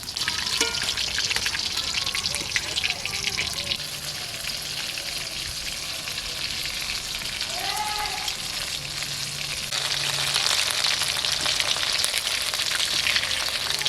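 Cabbage and prawn fritters deep-frying in hot oil, a dense crackling sizzle with popping bubbles, steady and close throughout, with no talk.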